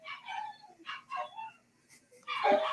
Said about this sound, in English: I might need to wait till the dogs finish.